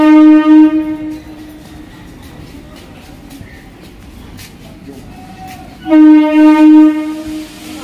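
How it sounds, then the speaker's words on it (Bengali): A Lalgola passenger train rolls past on the rails near Sealdah, its horn sounding loud and sustained at the start and again near the end, with steady rumbling wheel noise between the blasts. "ওই দূরে লালগোলা প্যাসেঞ্জার যাচ্ছে"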